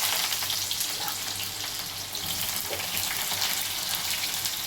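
Onions for an egg pulusu curry crackle and sizzle in hot oil, a loud, continuous, close-up frying hiss that holds steady with a few soft stirring scrapes and no voices.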